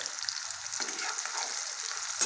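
Onion frying in a pan, cooked until reddish with salt added, gives a steady close sizzle and crackle that carries through the whole stretch with no voices.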